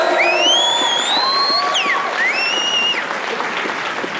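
Battle-event audience cheering, whooping and applauding loudly, dense crowd noise with high-pitched shouts and whistles over continuous clapping.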